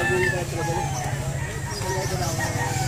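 A labuyo, a wild junglefowl rooster, crows at a bird market amid clucking fowl, with people talking over it and background chatter throughout.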